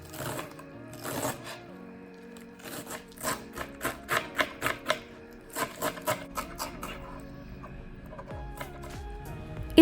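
A knife chops washed spinach (palak) on a board in a home kitchen, a steady run of quick, crisp, evenly spaced chops in the middle stretch over soft background music.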